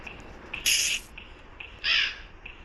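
Crow in the Granny video game caws twice, two loud harsh calls about a second apart over a low background hum, with faint softer calls between.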